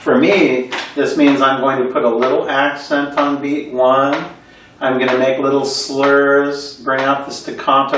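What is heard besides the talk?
No everyday noise stands out behind the speech.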